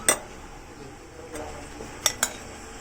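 Utensils clink and scrape against a bowl while camote tops salad, sweet potato leaves dressed with bagoong or fish sauce, is mixed, giving a few sharp isolated clinks over a quiet background.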